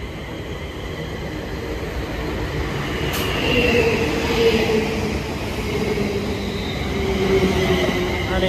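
A London train pulls out of a station with a steady, loud rumble of rolling stock, thin wheel squeals rising and fading above it, and faint clicks on the rails throughout.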